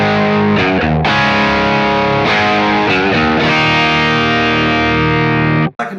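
An electric guitar plays crunch straight through the amp with no pedal, loud distorted chords ringing and sustaining with brief breaks between strums.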